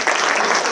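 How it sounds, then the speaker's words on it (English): Audience at a college visiting writers' reading series event clapping in sustained, dense applause that fills the whole moment, with no talk over it. "And one more round of applause."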